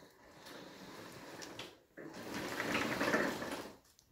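A push lawn mower being dragged backward with its traction lever fully engaged, giving a steady scraping mechanical whir with a short pause midway, then a louder grinding stretch.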